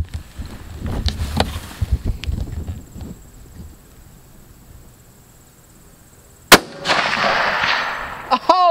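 A single loud, sharp rifle shot from a 6.5 Creedmoor Ruger Predator fired outdoors toward a 300-yard target, cracking suddenly after a quiet stretch with shuffling and handling noise, followed by a ringing echo and a later distant thud.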